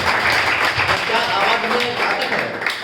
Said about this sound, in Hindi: जोरदार तालियां बजाना